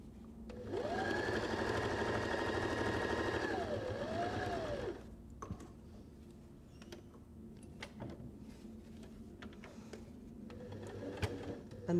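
A sewing machine stitches the bottom seam of a fabric face mask, a close, steady motor whir running for about four seconds with a slight rise and fall in pitch, then stopping and leaving quiet handling clicks.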